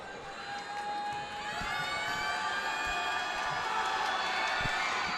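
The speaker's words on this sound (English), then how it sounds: "His first free throw is good, which gets the loud cheer from the Jefferson Jayhawk student section." A loud cheer rises from the Jefferson Jayhawk student section at a high school basketball regional championship game after a made free throw, a dense crowd roar swelling and holding steady, close and full.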